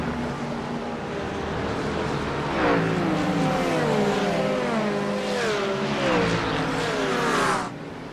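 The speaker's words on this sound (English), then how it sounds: "Love the sound of the Mustang." A Ford Mustang race car engine in iRacing roars and revs up through several gear shifts, pitch climbing and dropping in sweeps, loud and close throughout.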